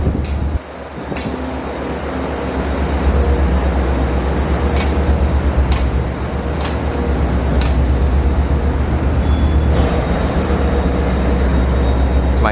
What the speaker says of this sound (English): My train today, bi-level.